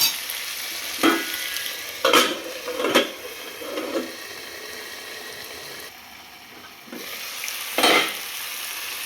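Tomatoes cooking down in a pan for chola curry make a low, steady sizzle, punctuated by several distinct scraping strokes of a spoon and a brief dip near the end as a lid goes on.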